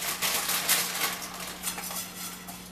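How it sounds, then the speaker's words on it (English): Dry fideo noodles are toasted in olive oil in a frying pan, with steady scraping and clinking of a utensil against the pan over a low background hum and no voices. "Now you're putting the fideo on the pan."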